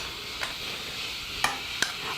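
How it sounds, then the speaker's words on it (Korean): Fruit salad being tossed with dressing in a pretty serving bowl gives a few separate wet clinks and soft squelching stirs over a quiet background. "샐러드는 드시기 직전에 이렇게 버무려 주시면 돼요"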